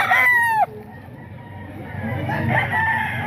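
A straight-comb tornado fighting rooster crows once at close range, a loud drawn-out call that breaks off sharply, followed by quieter clucking and background farm sounds.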